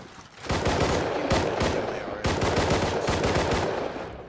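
Rapid automatic gunfire in the Rust video game, several fast bursts of shots separated by short pauses, close and loud.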